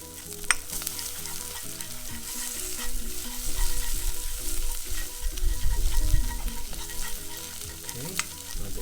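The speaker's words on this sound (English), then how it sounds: "and then we have 1 beaten egg. What we want to do is make it like a scrambled egg." Beaten egg frying and being stirred into scrambled egg in a hot pan, a steady close sizzle with scraping stir strokes throughout and no talking.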